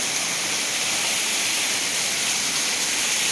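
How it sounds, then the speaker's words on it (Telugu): Rain falls steadily on a college herbal garden, a dense, even hiss of downpour with no breaks or distinct drops, fairly loud and close, with no one talking. "ఒకసారి చూడండి ఫ్రెండ్స్, వర్షానికి ఎలా తడుస్తుందో"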